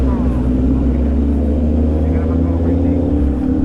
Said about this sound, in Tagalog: Medyo traffic nga lang pala dito.